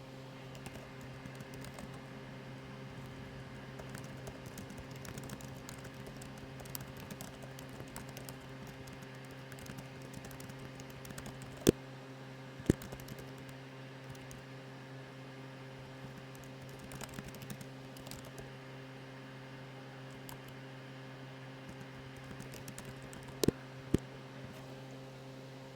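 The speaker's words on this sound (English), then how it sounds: "So let me type that in." Computer keyboard typing while entering a coding-interview question, soft steady keystrokes over a constant electrical hum, with a couple of sharper isolated clicks near the middle and end; no one speaks.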